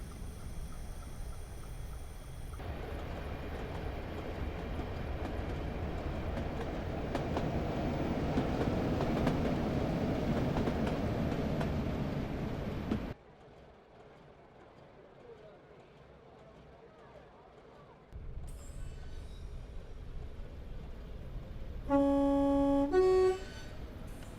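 A train pulls away from a station in the Train Simulator 2016 game on the Durham to Darlington via Bishop Auckland route, with a steady rumbling run, a sudden drop to quieter cab hum, then clicks and a rising tonal chime near the end.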